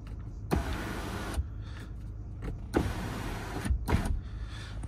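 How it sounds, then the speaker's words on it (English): The sunroof of a 2014 BMW 5 Series Touring 520d estate tilts up under its electric motor, giving two smooth, close whirring runs of about a second each, then a brief final buzz inside the quiet cabin. "Push it up for the tilt on the roof."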